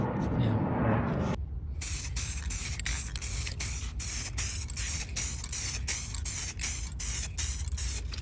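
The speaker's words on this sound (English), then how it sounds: "I don't like how this SEM paint nozzle throws it. It's very solid instead of an actual spray." An SEM spray paint can sprays paint on a Toyota AE86 dashboard interior part: a loud, close, continuous hiss that starts after a brief pause and pulses rapidly as the nozzle sputters.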